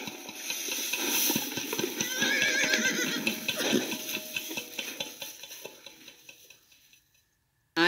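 Horses neigh, with a shrill whinny over busy clattering and clopping hoof sounds, then the sound fades to near silence.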